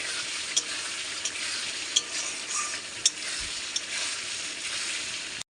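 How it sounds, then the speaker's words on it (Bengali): Fried paneer stirred into spinach in a hot oiled pan, a constant close sizzle broken by regular light clicks and scrapes of the spatula. "এখন মিশিয়ে দেবো ভেজে রাখা পনিরগুলোকে। ভালো করে মিশিয়ে নেব।"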